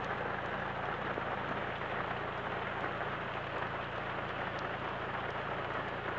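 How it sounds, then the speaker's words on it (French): Heavy rain pours steadily during a moderate thunderstorm in Livron, Drôme, drumming hard on a car and the ground as a dense, unbroken hiss with no voices. "la pluie, elle rentre dans la voiture et c'est chiant"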